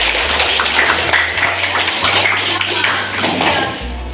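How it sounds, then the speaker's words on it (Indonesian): A small classroom group claps briefly during a mathematics lesson, a quick close burst of hand taps over a low steady hum, with a voice faintly present. "Kasih tepuk tangan dulu."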